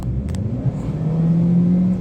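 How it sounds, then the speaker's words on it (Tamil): A car engine revs up steadily, its low rumbling pitch rising and holding, heard close with a brief clicking sound near the start. "என்ஜின் நல்லா ரெஸ்பாண்ட் பண்ணுது. நல்லா ரெவ் ஆகுது."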